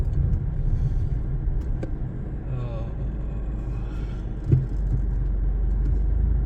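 A 2024 Tata Tiago facelift with a three-cylinder engine drones steadily from inside the cabin while driving, a low continuous rumble with a brief bump partway through.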